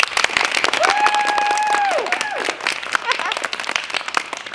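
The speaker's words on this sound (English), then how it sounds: "you have to really give yourselves a big round of applause" Child performers in a Willy Wonka and the Chocolate Factory show applauding themselves, a close, lively patter of clapping with cheering voices and sung or sustained vocal tones over it.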